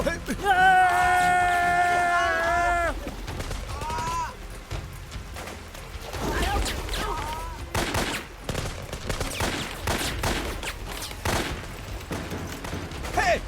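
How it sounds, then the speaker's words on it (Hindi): Rapid bursts of movie gunfire crack loudly through a tense action scene, mixed with dramatic music, shouting voices, and booming impacts. "गोली चलाना बंद करो।"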